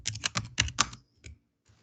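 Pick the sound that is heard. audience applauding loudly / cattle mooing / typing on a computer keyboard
typing on a computer keyboard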